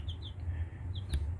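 Rhode Island Red, Australorp, Black Sex Link and Easter Egger chickens give soft, low clucks in a quiet yard, with a few faint high chirps mixed in and a brief sharp click near the end.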